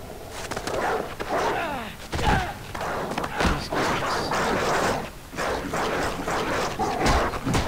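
A dog barks repeatedly in Far Cry 3 on PC, in short irregular bursts over a steady game soundscape with thumps, while someone talks over it.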